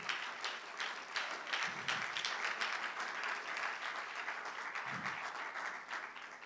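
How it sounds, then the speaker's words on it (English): A church congregation gives a round of applause to God, a steady, moderately distant wash of many clapping hands, with a couple of brief low voice-like sounds underneath. "somebody give God a round of applause."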